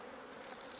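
Honeybees in a hive being converted from frames to top bars, a soft steady buzz heard briefly and faintly, alone without talk.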